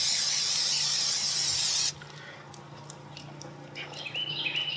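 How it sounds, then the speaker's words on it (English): Non-stick cooking spray hisses in a loud, steady burst onto a hot pancake griddle for about two seconds, then cuts off, leaving quiet kitchen background with faint sizzling. "I'm gonna hit this with a non-stick spray"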